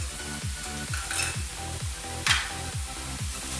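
Ginger and garlic paste frying in oil for chicken karahi, a steady loud sizzle with rhythmic stirring scrapes and one brief hissing burst near the middle.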